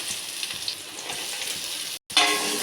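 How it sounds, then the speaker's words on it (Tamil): Chopped small shallots sauté in hot oil for a poori kurma, a bright continuous sizzle close by that cuts out for a moment, then returns louder. "இப்போது பொடிசாக கட் பண்ணி வச்சுருக்கிற இந்த சின்ன வெங்காயத்தை போட்டுக்கலாம்"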